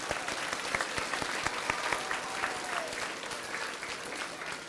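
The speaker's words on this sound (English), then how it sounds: "So let's give her a round of applause." Steady applause from a school audience at an elementary school Arbor Day event, many hands clapping continuously for the superintendent with sharp individual claps standing out near the front and no talk over it.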